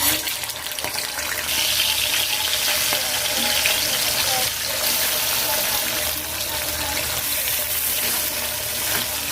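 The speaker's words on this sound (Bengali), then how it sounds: "মাছগুলো ভাজা হয়ে গেছে" Salted fish frying in lightly heated oil in a wok gives a steady, close sizzle with faint stirring and watery crackle throughout.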